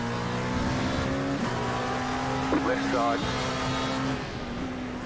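A Porsche racing car engine in iRacing, on the Charlotte circuit, whines at a high, steady pitch, shifting tone as it speeds along, with someone talking over it throughout.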